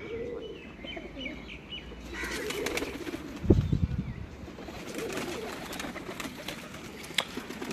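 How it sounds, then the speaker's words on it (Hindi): A Teddy pigeon coos from a rooftop loft, with low repeated coos joined by other birds chirping and a brief burst of wing flapping near the middle. "ये सलारा टैडी कबूतर है उस्ताद ताहिर शरीफ पाक की रवालों का"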